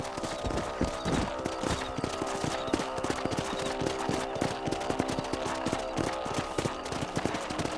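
A horse ridden across a ranch property in Red Dead Redemption on Nintendo Switch gives a brisk, steady clip-clop of hooves, with a dense, even rhythm and a low background hum.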